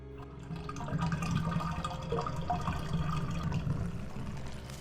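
Water gurgles and sloshes steadily as a full bathtub drains in the video game A Neverending Curse - Stigmatized Property, with bubbling and trickling sounds close by and no talking.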